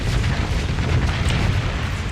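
Heavy, rumbling explosions from missile hits on a destroyer in the space combat game Starsector form a dense, continuous low boom lasting about two seconds.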